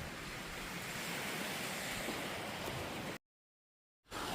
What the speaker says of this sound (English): Shelters from the waves